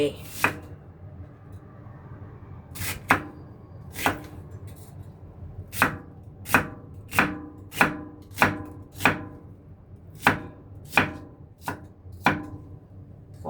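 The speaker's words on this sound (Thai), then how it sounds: "หั่นหอมใหญ่ก่อนนะคะ" Sharp knife chops through an onion on a cutting board, about fifteen distinct strokes at an uneven, unhurried pace, close by with faint background hum.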